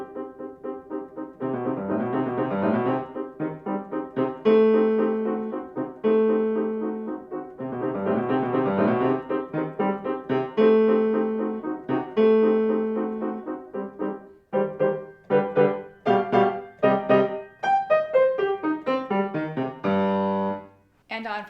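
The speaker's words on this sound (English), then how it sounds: "Today we're talking about how to teach the very famous Ballade by Johann Burgmüller." Solo piano performing Burgmüller's Ballade Op.100 No.15, with dense, agitated repeated chords at the start giving way to a lighter, flowing melodic passage with descending runs; played alone and without talk.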